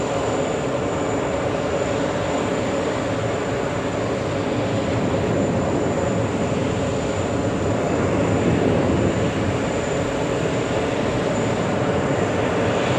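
An American Airlines jet departing JFK for Delhi gives a steady, broad jet-engine roar, loud and continuous throughout with no clear rise or fall, and no one talking.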